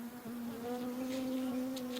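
Honeybees hum steadily around a horizontal beehive during a hive split, a continuous close buzz with a single bee passing near, with no voices.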